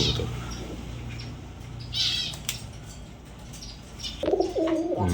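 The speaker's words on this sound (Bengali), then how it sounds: "এখানে এক জোড়া আছে সবজি কবুতর একটু লাড়া ছাড়া দিয়ে দিলাম তো ডাকাডাকি শুরু করে দিছে" Pet pigeons in a loft coo softly in low, throaty bursts, with a brief wing flutter and a louder call near the end, fairly close and otherwise quiet.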